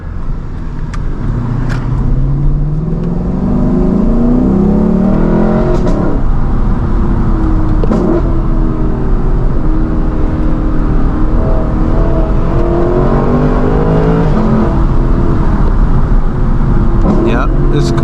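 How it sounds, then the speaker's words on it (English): Lexus LC 500 V8 engine revving up and down through downshifts with throttle blips, heard from inside the cabin on a drive, loud and continuous with someone talking over it. "Those downshifts sound great. Listen right here, listen to this downshift."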